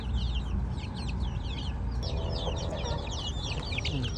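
Several chickens cluck busily and continuously, close by, their short calls overlapping in a steady barnyard chatter.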